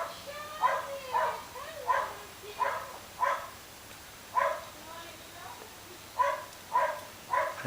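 A dog barks in a steady series of about a dozen evenly spaced, fairly near barks over a low background hum.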